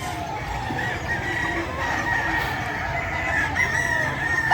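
At the Bocaue pet market, several roosters crow and chickens cluck over a busy background hum, the calls overlapping from nearby and farther off.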